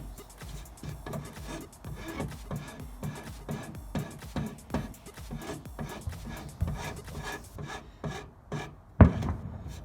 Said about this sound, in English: I can come in here and do a little bit of grinding on that front side there